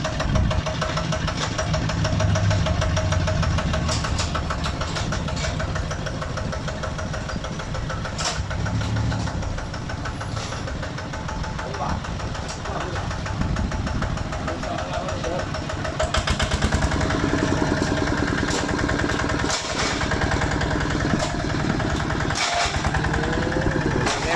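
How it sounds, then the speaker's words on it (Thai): A Magnum RT 155 small engine, electric-started, runs steadily at idle with a rapid, knocking rhythm, the tone shifting slightly partway through as it keeps running. "เครื่องยนต์แมกนัม RT 155พับครับ ติดในสตาร์ทครับผม"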